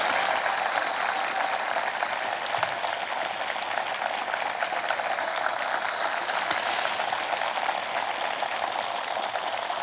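A large crowd at the outdoor memorial ceremony for former Korean president Roh Moo-hyun gives sustained applause, a dense, crackling, even roar of clapping that holds steady for about ten seconds without speech.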